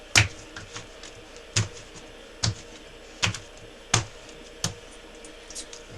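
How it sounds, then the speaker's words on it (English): A block of clay is slammed down repeatedly while being wedged, producing sharp, close thuds spaced roughly a second apart over a quiet background. "And I slam it until I get another block, and cut it,"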